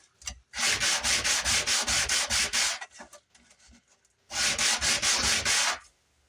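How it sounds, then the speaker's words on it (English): A piece of wood sanded by hand in two bursts of fast back-and-forth strokes, loud, close and rhythmic, separated by a short pause of quieter handling, with no talking. "I need to sand this down just a little bit"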